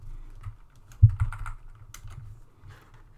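Keys clatter on a computer keyboard as C code is typed during a programming lecture, a close run of quick taps with one sharper thump near the middle, no talking.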